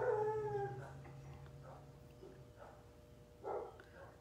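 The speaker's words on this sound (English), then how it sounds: "Y'all can hear the dogs outside." Faint dogs howling in the distance, a long wavering howl at the start followed by a few softer yips and whimpers.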